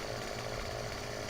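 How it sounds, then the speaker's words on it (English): A chainsaw cutting trees in Farming Simulator 17 with the Seasons mod, a steady, dense, close buzzing roar that holds constant and loud with no pauses and no voices. "So we got chainsaw back on, see, it's going to cut over to the side."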